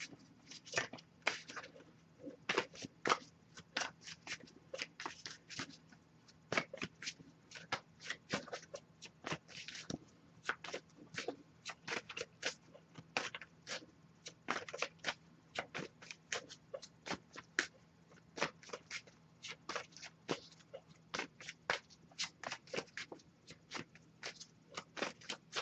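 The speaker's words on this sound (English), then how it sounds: "I'll give it a few more shuffles." An oracle card deck being shuffled by hand, quick repeated papery riffles and taps in irregular bursts, close and fairly soft, continuing throughout.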